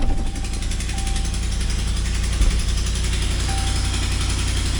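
A 2014 Ram 1500 Laramie's 5.7L HEMI V8 idling with a broken exhaust, a loud, continuous low rumbling drone with a rapid pulsing beat, close up and alone.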